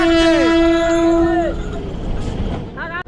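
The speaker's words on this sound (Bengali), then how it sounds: "দুটো ট্রেন আটকে গেছে আর আমাদের ট্রেন একটা রয়েছে তিনটে ট্রেন একসাথে" At a crowded railway station during a pilgrimage rush, with three trains held together, a loud, near train horn sounds one steady blast for about a second and a half, then fades into general rumble and noise.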